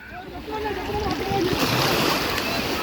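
Sea waves wash onto a beach with steady surf noise, broad and continuous, rising slightly after the first second, with wind buffeting the microphone and faint voices in the background.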